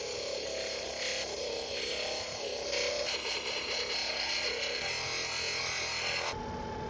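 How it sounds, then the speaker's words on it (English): A flat lap's 325-grit grinding disc smoothing a piece of sunstone gives a steady, continuous abrasive rasp that holds at an even level throughout and then shifts in tone near the end. "I'm going to do a 325 grinding disc just to smooth out anything else I may have missed"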